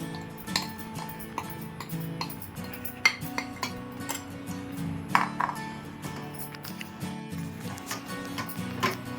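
A Mysore pak mixture of khandasari sugar and ghee being stirred in a pan: steady scraping with frequent light metallic clinks of a spoon against the pan, fairly quiet and without speech.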